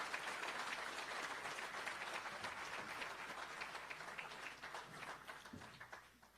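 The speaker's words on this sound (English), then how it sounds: "Please give him a big round of applause" Audience applause for KTR, the IT Minister, on stage at a live Indian American diaspora meet-and-greet, a steady wash of many hands clapping that holds for several seconds before slowly thinning out.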